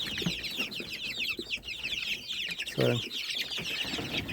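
Chickens cluck and chatter continuously inside a hoop house, a dense flock of busy, overlapping calls close by, with a brief low voice cutting in near the end.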